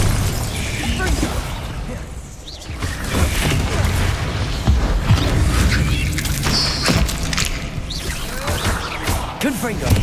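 Confringo spell blasts explode again and again in Hogwarts Legacy combat, a dense, continuous wash of booms, crashes and bursts that stays loud throughout, with voices calling out over the chaos.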